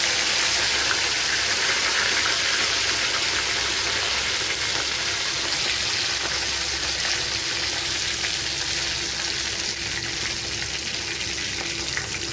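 Fennel seeds and curry leaves fry in hot oil for prawn masala, a loud, steady, close crackling sizzle that goes on throughout with no voices.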